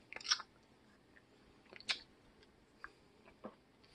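Someone eats homemade bee fondant flavoured with tea tree oil and wintergreen, producing a few soft, close chewing and biting clicks spread irregularly through an otherwise quiet moment.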